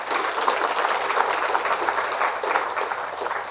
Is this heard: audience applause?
yes